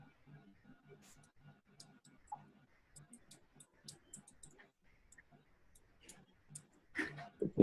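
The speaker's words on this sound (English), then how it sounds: "I'm just typing" Soft, irregular clicks of typing on a computer keyboard, faint and somewhat distant, tapping in uneven bursts with a louder cluster near the end.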